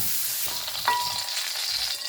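Zucchini frying in a pan, a steady sizzle with continuous crackling hiss and a brief clink of a utensil partway through.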